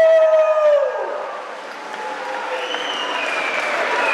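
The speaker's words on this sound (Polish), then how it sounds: "Oklaski dla naszych radnych!" A crowd at the Ruda Śląska city days festival applauds its city councillors, steady clapping that follows a fading, drawn-out vocal tone and builds again toward the end.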